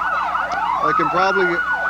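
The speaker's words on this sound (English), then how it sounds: "I can hear the sirens" Emergency sirens wail in overlapping rising and falling tones at a Christmas parade in Borger, Texas, several at once, moderately close and continuous.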